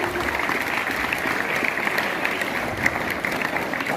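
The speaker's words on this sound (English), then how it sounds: "Please give a huge round of applause as we welcome" An audience at a legal literacy camp applauds steadily to welcome a district judge, a dense, sustained wash of clapping at moderate volume.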